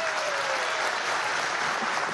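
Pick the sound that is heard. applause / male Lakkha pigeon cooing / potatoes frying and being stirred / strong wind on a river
applause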